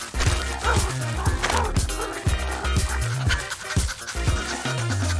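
A small dog pants close by in quick, rhythmic breaths, with voices talking alongside.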